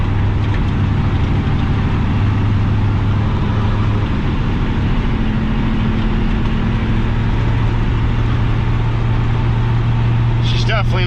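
A square-body Chevrolet K30 truck with a 6.0 Vortec engine, a four-speed manual gearbox and exhaust leaks runs while hauling a 9000 lb load. It makes a loud, continuous low drone that stays steady and close throughout.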